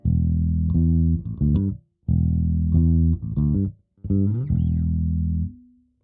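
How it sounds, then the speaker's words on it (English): An electric bass played through a Fractal amp modeler plays a short phrase of sustained, deep notes with a clean, stock amplified tone, three bursts separated by brief silences. "our stock bass tone sounds like this."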